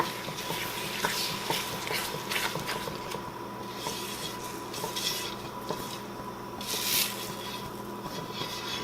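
Strawberry rhubarb jam with lemon juice and sugar is stirred in a pan as it heats toward a boil, giving a steady close scraping and swishing with occasional soft clinks of the spoon against the pan.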